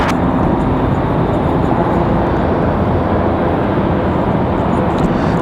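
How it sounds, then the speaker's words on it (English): A Republic Airways jet touches down on landing at Raleigh Durham airport, heard from a parking garage as a loud, sustained engine roar and rushing rumble that holds steady throughout. "Nice touchdown there for Republic Airways"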